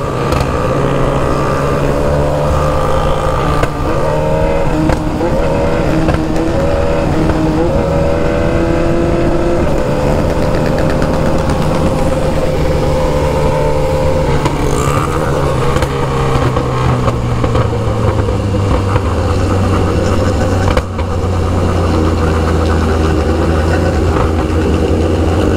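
Many BMW S1000RR sport motorcycles roll together in a convoy, their engines a loud, steady, close drone whose pitch rises and sinks as the bikes throttle, with no talking.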